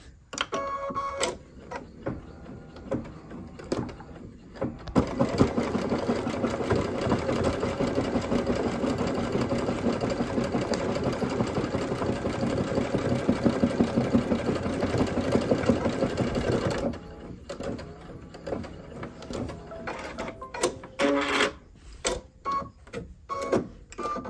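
Embroidery machine running slowly while stitching a yarn faux chenille letter, a steady rapid mechanical chatter for about twelve seconds, bracketed by intermittent clicks and short bursts of stitching before and after.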